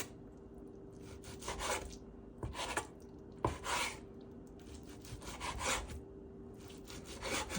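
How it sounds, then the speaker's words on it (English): A knife slices marinated steak into thin strips against the grain for soft steak tacos, giving repeated close scraping, sawing strokes in short bursts with brief pauses between cuts. "I'm going to go ahead and slice my steak up"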